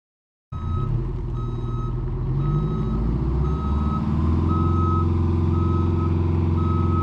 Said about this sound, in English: Now I'll pull the dump truck forward and back it up over there.